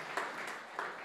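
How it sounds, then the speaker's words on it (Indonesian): A church congregation applauding after a sermon, a brief, faint wash of clapping from many hands spread through the room, soft and distant with a couple of slightly louder claps. "Yang setuju beri tepuk tangan yang meriah untuk kemuliaan Tuhan."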